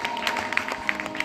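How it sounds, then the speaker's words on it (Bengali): Audience applause at a live music performance, a dense steady patter of many hands clapping with a few sharper claps standing out, fairly close and continuous for its short length. "সকলের জন্য একটা জোরদার হাততালি"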